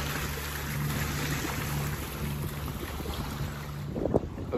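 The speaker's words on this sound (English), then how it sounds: "We've got some waves, we've got the wind changing" Steady wind rushing around a sailing yacht at sea, buffeting the microphone with a constant roar, water sloshing underneath and a brief louder splash near the end.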